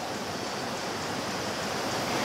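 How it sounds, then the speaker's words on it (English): A calm little stream flows steadily, a soft continuous wash of water with no voices or other sounds. "just a beautiful little calm stream"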